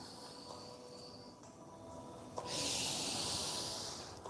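Long, steady exhale during a yoga session, a broad breathy hiss starting sharply and holding for about two seconds, close and fairly loud with no talk over it.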